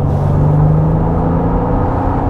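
A 2005 Mercedes SL 65 AMG with a 6-litre V12 biturbo accelerates, a loud close engine drone with a steady low tone, no voices over it.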